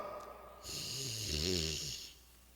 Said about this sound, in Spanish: Roncaban, dormidos.